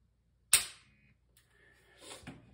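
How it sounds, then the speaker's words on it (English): A Glock pistol is dry-fired during grip training, giving one sharp, close trigger click that snaps and fades quickly, followed by faint handling noise. "now I'm going to go back and I'm going to try to dry fire again"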